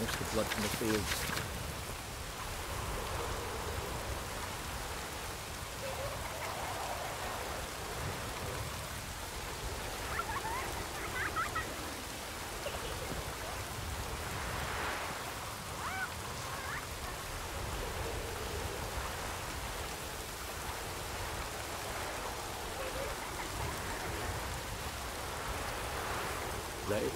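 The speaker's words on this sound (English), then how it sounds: "Let it rain. Wash the blood from the fields." Steady rain falls in a video game, an even broadband hiss that holds for the whole stretch, moderately loud and continuous, with faint spoken lines under it.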